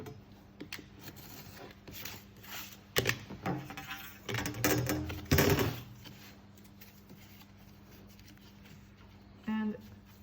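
Paper is cut and trimmed to fit a registration jig for linocut printing. Crisp, irregular bursts of cutting and rustling come close by, with quieter handling between them and a brief murmur near the end.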